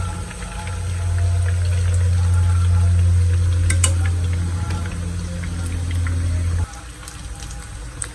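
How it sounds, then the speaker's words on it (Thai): Snakehead fish deep-frying in hot oil until crispy: a loud, steady bubbling sizzle fills the pan close up, with light clinks over it, before dropping abruptly to a softer hiss near the end. "ทอดให้กรอบเลยนะครับ"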